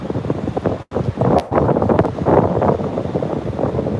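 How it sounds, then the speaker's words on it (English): Wind buffeting a microphone on a city street in Midtown Manhattan at night, rough low rumbling gusts that rise and fall with a brief dropout, loud and close. "Ooh, it's a bit windy right now."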